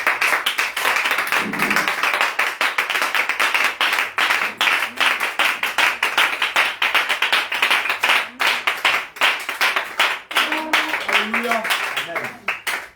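A church congregation at a Friday evening service claps loudly and rhythmically in praise of Jesus, with dense, steady hand claps close by and voices calling out beneath.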